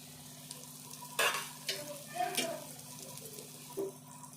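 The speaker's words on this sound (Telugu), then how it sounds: "ఈ కాకరకాయ కారము కొద్దిసేపు వేగాలి" Spiced bitter gourd frying in a pan, a low sizzle broken by a few sharp spatula scrapes and stirs, close by, over a steady hum with no talk.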